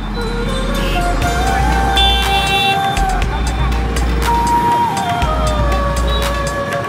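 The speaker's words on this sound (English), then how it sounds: "I see an ambulance." A wailing ambulance siren rises and falls amid rumbling road traffic in Bihar, India, loud and close, with engines droning underneath.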